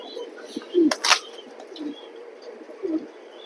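Racing pigeons in a cage give low throaty coos and a couple of brief wing-flapping flutters, close by and moderately loud amid light background noise.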